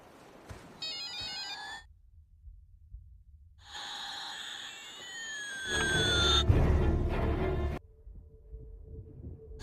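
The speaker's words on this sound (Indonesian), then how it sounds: "tiba-tiba mereka dikejutkan dengan suara mainan yang tiba-tiba si bungsu nyalakan" An electronic toy switched on by the youngest child: bursts of bright beeping, warbling and sweeping synthetic tones with sudden silent gaps, then a louder electronic blare near the end.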